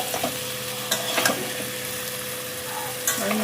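Pointed gourd and prawns frying in a pan give a steady low sizzle, with a few sharp stirring scrapes and clinks near the start and end.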